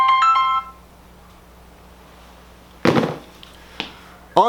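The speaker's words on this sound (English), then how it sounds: "perfect timing that my phone would ring" A mobile phone ringtone chimes briefly at the start, then goes quiet, followed by a few sharp handling clicks and knocks as the phone is picked up.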